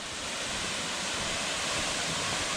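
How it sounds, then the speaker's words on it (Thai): Jok Kradin waterfall in Thong Pha Phum National Park, Kanchanaburi, Thailand, pours in a steady, dense roar of rushing water, constant and unbroken with no voices. "น้ำตกสวยมากเลย ใหญ่มากเลย"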